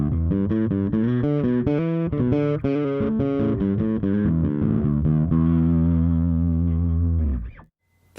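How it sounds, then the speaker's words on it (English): Bass guitar played through an Origin Effects Super Vintage rig with distortion blended into the clean tone, a sustained run of gritty, harmonically rich notes and chords ringing loud and close before cutting off abruptly near the end. "And then you just blend in that distortion."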